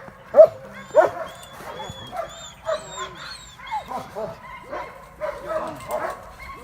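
Two dogs out on a walk yip, whimper and bark in short irregular bursts. The sounds are close and moderately loud, with brief gaps of quieter sniffing and movement between them.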